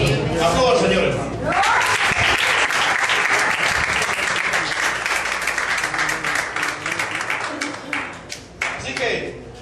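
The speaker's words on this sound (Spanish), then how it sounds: "Aplauda al Señor" A church congregation breaks into loud, sustained applause during a Spanish-language service, the clapping swelling after a brief spoken opening and carrying on thickly with voices mixed in.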